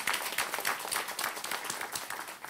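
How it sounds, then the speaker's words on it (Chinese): Audience applause at a press event in Taiwan for Mr. Paul Archie, a steady, dense clatter of many hands clapping together with no voices over it. "我们给他一个掌声好不"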